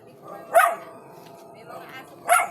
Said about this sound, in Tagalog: Ay, may mga aso.